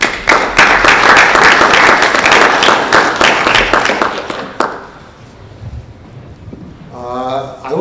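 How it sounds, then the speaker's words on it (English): Audience at a talk on owning gold breaks into applause, a thick burst of many hands clapping for about four and a half seconds, then stopping abruptly into quiet room noise with a faint rumble near the end. "Let's give him a round of applause."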